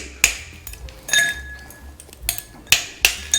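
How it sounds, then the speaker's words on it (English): Ice cubes clink and knock sharply against a glass while a Martinez cocktail is being built, with several bright, ringing impacts spaced irregularly close by. "And then let's grab some ice."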